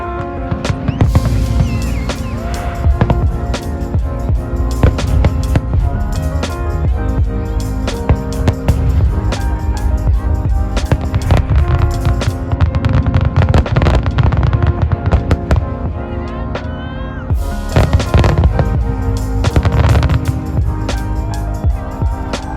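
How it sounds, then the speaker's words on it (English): Fireworks explode outside during a summer night in Brooklyn, a dense, continuous barrage of loud cracks and booms with rapid overlapping bursts and crackle for over twenty seconds, close and sustained. "I'll try to capture only like 30 seconds of fireworks because that shit's annoying"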